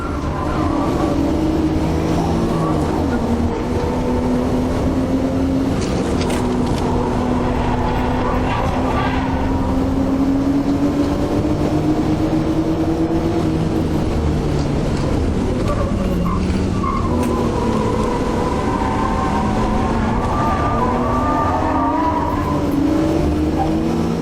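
A V6 car on Falken Azenis ST115 tyres and Racing Hart wheels drifts with a loud, sustained engine howl whose pitch rises and falls with the throttle, plus tyre squeal, under a narrator's voice.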